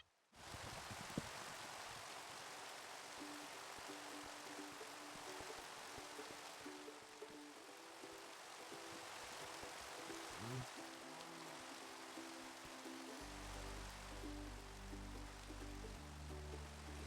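Steady, even rain hiss fills the whole scene in a survival video game, a constant soft wash with no pauses, while faint game tones and low rumbles sit underneath.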